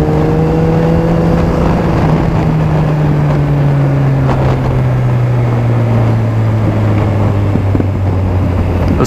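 A Suzuki GSX 1250FA motorcycle engine winds down through a downshift, its loud droning tone sliding lower under steady wind noise, with a few sharp exhaust pops breaking through near the middle and end; no one speaks.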